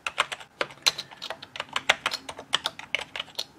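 Rapid typing on the keyboard of a Tandy WP-2 portable word processor, close and crisp individual key clicks in a quick, uneven stream with no voices.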